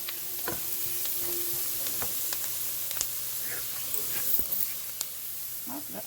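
A roux seasoned with adobo all-purpose seasoning sizzles in a pan as it begins to boil, a constant hiss broken by small pops and occasional stirring clicks, close and untalked over.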